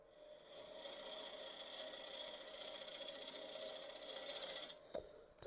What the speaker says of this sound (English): let's take my 1/2 inch bowl gouge and start shaping the outside